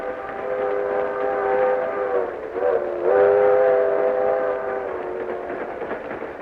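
A train whistle sound effect in a classic radio drama gives a long, loud, mournful multi-tone blast that dips and swells midway, over the low rumble of a moving train, with no talking.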